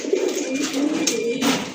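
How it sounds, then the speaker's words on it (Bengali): Black mukhi pigeons coo steadily in close, throaty, overlapping tones that continue without a break and then stop abruptly. "এখানে কিছু মুখী কবুতর দেখতে পাচ্ছেন ব্ল্যাক কালারের ভিতরে"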